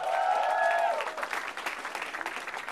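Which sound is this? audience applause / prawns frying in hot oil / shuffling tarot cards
audience applause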